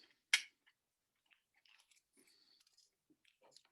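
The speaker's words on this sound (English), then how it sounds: "15 seconds of chewing." A spicy Death Nut is bitten with one sharp crunch, followed by soft, sparse chewing sounds close to the microphone in near silence.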